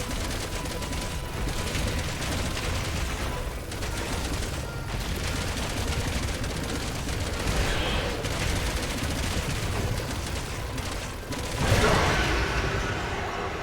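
Continuous rumbling cannon fire and explosions from the game Resident Evil 6, dense and steady, with a louder blast near the end.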